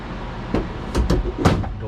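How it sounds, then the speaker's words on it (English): A door on a 1966 Chevrolet C10 pickup truck is swung and shut, giving a few sharp thuds and latch knocks close by over a quiet room background, with no talking. "Door closes."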